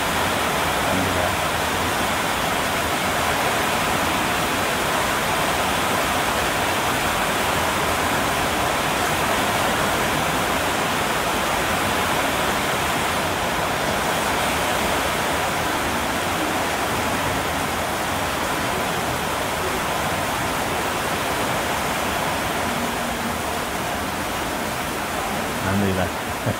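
Heavy rain pours down in a dense, unbroken roar, loud and steady throughout with no pauses or changes in intensity.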